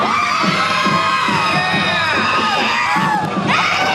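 Parade crowd cheering, whooping and shouting loudly and continuously, with children's excited yells mixed into the dense, close roar.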